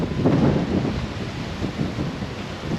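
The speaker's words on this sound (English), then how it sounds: "it is windy" Gusty wind roars against an outdoor microphone at Epcot ahead of an approaching hurricane, loud buffeting rumbles that swell and ease over a few seconds, with no voices.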